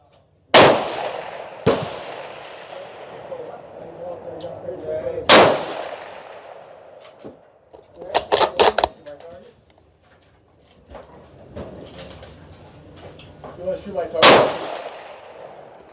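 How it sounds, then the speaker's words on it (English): Five sharp, loud rifle shots from a Ruger American Ranch Gen II in 5.56 crack out at uneven intervals on an outdoor range, each with a brief echoing decay, while a person talks quietly between them. "All right, 5 rounds through the gun."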